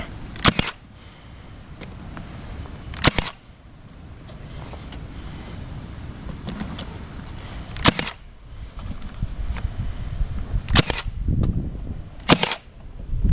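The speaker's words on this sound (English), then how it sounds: "Shoot a couple brad nails in it." A brad nailer fires brad nails into house siding during exterior repair, five sharp, loud pops spaced irregularly over a steady low background hum, with no talking.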